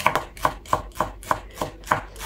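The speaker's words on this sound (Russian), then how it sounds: "Зеленый лук режу мелко, использую только нижнюю часть стебля." A knife finely chops the lower part of green onion stalks on a board, making quick, evenly spaced crisp taps, about eight in a row, close up and without talk.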